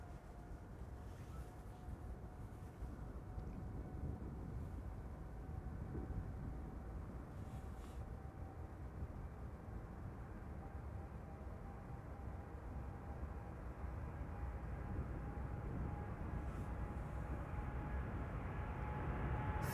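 An airliner departs Amsterdam Schiphol Airport, its engines giving a steady broad roar with a faint rising whine, heard from a distance and gradually growing louder, with wind buffeting the microphone.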